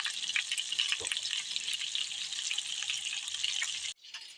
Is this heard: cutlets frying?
yes